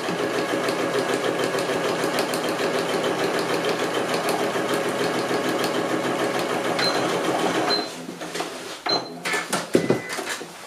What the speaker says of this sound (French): Et on va coudre au point droit.